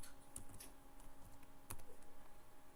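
Quiet keystrokes on a computer keyboard, a few soft scattered clicks with one sharper tap, over a steady low hum and faint room noise.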